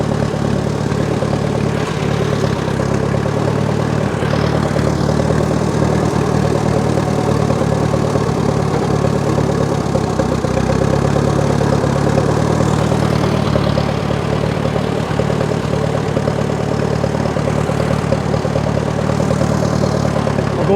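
A freshly rebuilt Farmall Super M tractor engine runs steadily at idle, a loud, continuous low rumble close by with no talk over it.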